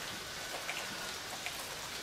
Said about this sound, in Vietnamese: Ôi, mưa to này